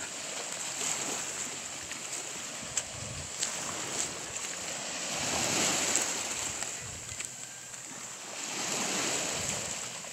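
Sea waves at high tide, a steady soft wash of surf swelling and easing, with wind buffeting the microphone, no talking.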